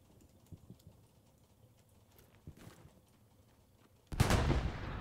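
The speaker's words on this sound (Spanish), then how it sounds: "Vale, artillería creo que izquierda." Artillery fire in the World War II shooter Hell Let Loose, with faint distant thuds and pops early on, then one loud, close, booming blast near the end that keeps rumbling.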